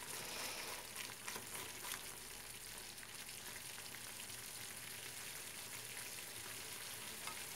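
A cheese halva mixture bubbles in a pan with a faint, steady sizzle and crackle, with occasional soft spattering pops throughout.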